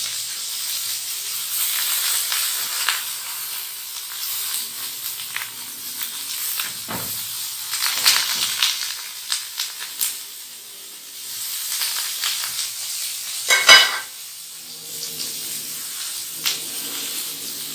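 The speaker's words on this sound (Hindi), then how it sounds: "ऑयल हर तरफ फैलाना है ताकि ये अच्छे से फ्राई हो जाए" Reshmi kofta frying in oil in a pan, a soft, steady hiss of hot oil with occasional louder spits and a sharp burst of sizzling near the end, no voices.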